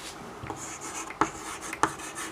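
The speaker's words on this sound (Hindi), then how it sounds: "इसका अर्थ लिखते हैं।" Writing on a board during a Sanskrit grammar lesson: soft rubbing strokes with a few sharp taps, close and alone.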